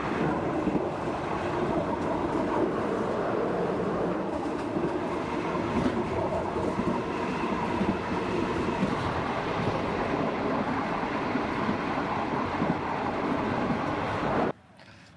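Steady, loud rumble and rattling of a passenger train rolling along the tracks in Thailand, continuous clatter for the whole stretch before cutting off abruptly near the end; no voices.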